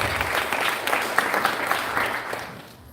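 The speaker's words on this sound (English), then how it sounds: "Let's give him a big round of applause." An audience at a temple advent-day celebration applauds a young performing artist with sustained, fairly close clapping that holds steady and then tapers off at the end.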